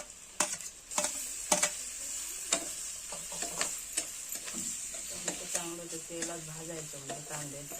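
Tomatoes fry in a pan for a Malvani-style prawn curry, with a low sizzle under repeated spoon scrapes and clinks; a voice talks faintly over the cooking toward the end.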